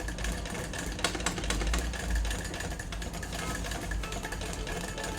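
A sewing machine stitches a straight seam, a continuous close mechanical whirr and rapid knocking of the needle running steadily throughout, with no talk.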